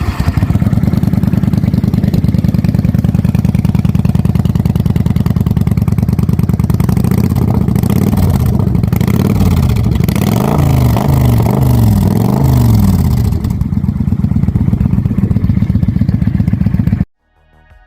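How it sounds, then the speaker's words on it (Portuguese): A V2 motorcycle engine with uneven firing intervals of 415 and 305 degrees runs loud and close with a lumpy, irregular throb, rising in the middle before cutting off abruptly near the end. "É isso que cria o som embaralhado dos motores V2,"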